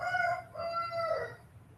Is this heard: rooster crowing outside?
yes